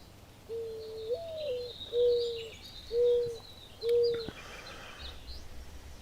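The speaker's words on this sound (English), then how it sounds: "And like all the other birds that surround it too" A bird calls outdoors in a slow series of four or five short, even hooting coos, moderately close, with faint chirps in the background and no talking.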